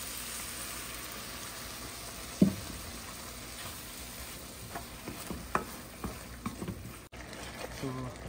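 Maggi water poured into a nearly finished sizzling tadka in a pan, giving a steady frying hiss with a sharp splash and a few stirring clinks, heard with no talk over it.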